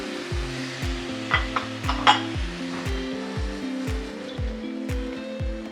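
Calamari hitting a hot pan and frying, a steady sizzle with faint clinks of cookware, close up, while music with a regular rhythmic bass pulse plays underneath.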